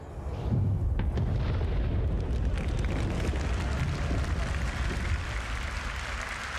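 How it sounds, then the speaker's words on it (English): A big explosion in the Star Citizen video game, with a cinematic shockwave and delayed sound, erupts into a sustained loud rumbling roar that slowly fades, with crackling debris on top. "Finally, the really cool stuff, explosions."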